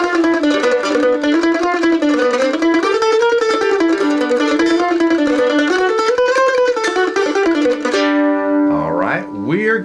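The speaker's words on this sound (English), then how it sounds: "Today we're going to learn the Boogie Woogie," A boogie woogie blues riff in G played as a steady, rolling instrumental line with a bouncing repeated bass pattern, loud and continuous, ending with a held chord and a short flourish.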